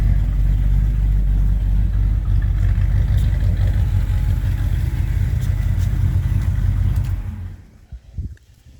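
An old Chevy C10 pickup truck engine idles as it warms up, a steady close rumble that holds before dropping away near the end.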